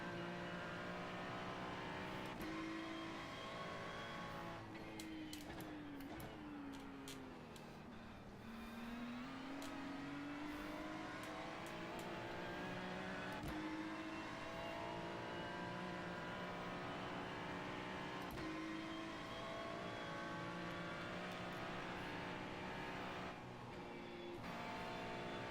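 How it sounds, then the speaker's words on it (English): In-car engine sound from a Lamborghini race car on the Bathurst circuit in iRacing: a loud, sustained drone with pitch rising and dropping through gear shifts and braking, continuous and close throughout. "So I'm on board with the Lamborghini"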